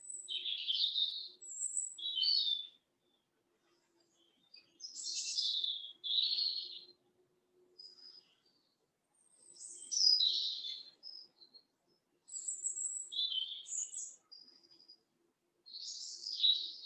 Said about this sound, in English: I think you can hear the birds singing.